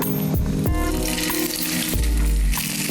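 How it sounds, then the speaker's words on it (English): Stuffed calamari frying lightly in a hot pan, a steady close sizzle with a few clinks of metal against the pan, no one talking. "What I'm going to do is put my pan on and just give them a light fry"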